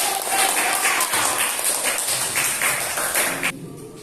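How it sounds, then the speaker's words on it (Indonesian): Students in a classroom clap their hands together in a loud, dense burst of applause that fills most of the clip and stops abruptly near the end. "Oke, tepuk tangan dulu."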